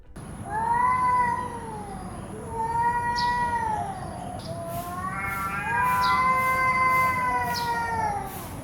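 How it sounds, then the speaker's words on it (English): Long, drawn-out yowls from male cats confronting a rival rise and fall in repeated wails, close and loud, with a low rumbling growl beneath and a faint steady hiss. "These meows and growls can be quite frightening and are part of the confrontation ritual"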